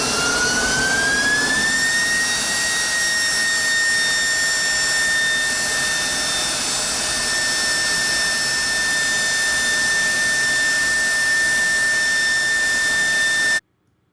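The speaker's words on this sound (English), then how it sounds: "this is the windup of this engine, and then you're going to hear it at full joy here in just a second" An F-35 jet engine spools up, its whine rising in pitch over about two seconds, then holds a loud, steady roar at full power before cutting off abruptly near the end.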